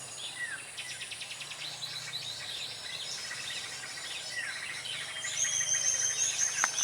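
Several birds call and chirp outdoors, with scattered high tweets and short trills at moderate distance, joined near the end by a sustained insect-like buzz over a quiet background.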